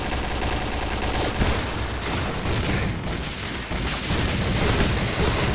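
Rapid bursts of gunfire and explosions fill a round of the online shooter Point Blank, loud, dense and continuous with no pauses.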